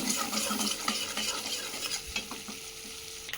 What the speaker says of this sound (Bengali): এবার ডিমটা ভেজে নিচ্ছি